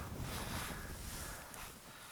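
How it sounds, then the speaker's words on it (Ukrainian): Steady cold wind on a frozen lake roaring and buffeting a microphone outdoors, with broad rumbling gusts and no voices. "Подивіться, який вітер. Просто проганяє."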